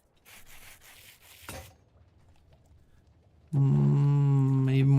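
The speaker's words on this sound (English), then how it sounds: "And then if we take our sandpaper and make some more of these." Sandpaper sanding in a Minecraft steampunk modpack: a second and a half of repeated rasping, scratchy strokes, then a pause and a loud sustained harmonic tone near the end.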